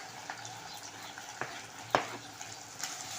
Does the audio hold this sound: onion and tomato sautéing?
yes